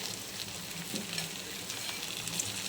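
Crushed bori added to jukti flowers frying in a pan sends up a steady, soft, close sizzle with faint crackles throughout and no voices.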